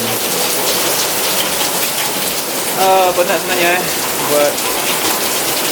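Steady rain falls outdoors as a dense, constant hiss of drops on surfaces, recorded close and fairly loud, with a voice briefly speaking over it partway through.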